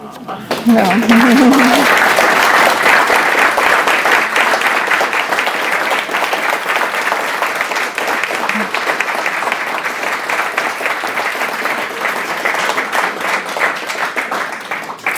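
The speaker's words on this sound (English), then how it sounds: "Shawn, I think you can tell by that applause how we all enjoyed your presentation" Sustained applause from an audience after an art presentation by a Western artist, a long, even roar of many hands clapping, loud and close, holding steady for the whole stretch.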